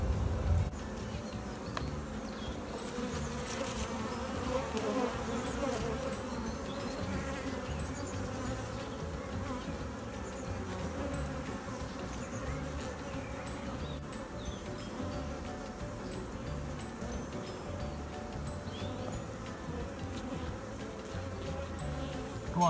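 Honey bees buzzing steadily at an open beehive during an inspection, a continuous close droning hum from many insects with no talk.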